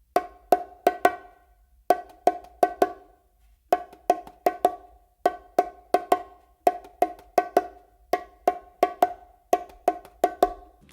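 Four plain open tones on bongos repeated in steady groups, crisp bright hits evenly spaced with brief gaps between sets, close and solo.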